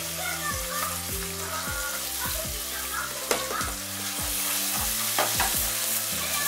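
Onions fry in a pan for a chicken basquaise, sizzling steadily while a spoon stirs them in repeated scraping strokes, close and moderately loud.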